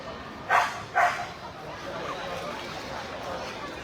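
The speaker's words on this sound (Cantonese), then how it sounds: "而呢個吠叫指令係 Ocean 想同大家打聲招呼" Ocean, a police patrol dog performing at a police open-day show in Macau, gives two sharp barks on command in quick succession, then a low crowd murmur carries on.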